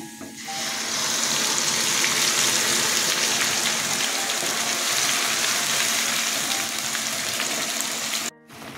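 A paste of ginger, onion and green chilli hits hot oil and sizzles loudly at once, a dense, steady frying hiss that stays strong for several seconds before cutting off briefly near the end.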